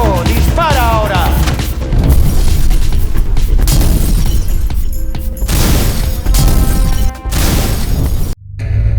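A gunshot fired on stage during a Titus Andronicus theatre performance, one loud sharp blast amid a dense, noisy mix of crashing and rumbling sound, with a voice briefly heard early on.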